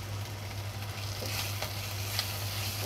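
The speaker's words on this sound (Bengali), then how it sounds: "এখন নেড়ে চেড়ে একটু ভেজে নেব।" Onions frying in cooking oil in a pan while being stirred, a steady broadband sizzle with soft scraping strokes scattered through, close and fairly quiet with no talking.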